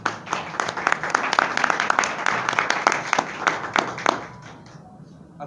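Audience applause at a presentation of a study on honesty trends: a dense round of clapping with distinct sharp claps, steady for about four seconds before it tapers off and fades.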